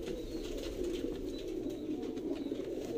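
Sialkoti pigeons coo softly and continuously at close range, with repeated low throaty calls and no talking.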